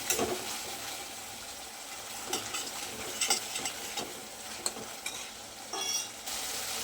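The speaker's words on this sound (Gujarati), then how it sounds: "હવે મસાલામાંથી તેલ છૂટું પડે ત્યાર સુધી આપણે એને ફ્રાય થવા દઈશું" Spice masala for an okra curry fries in oil, a soft, close sizzle with occasional stirring scrapes and small pops, quiet and continuous with no voices.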